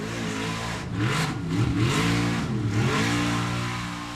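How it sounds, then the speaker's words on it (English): A formula offroad car revs hard at an Icelandic Stangarhylur Cup event, the engine whining up and down in repeated surges while a transmission failure leaves the wheels not turning, loud and close. "The engine is spinning, but the wheels are not."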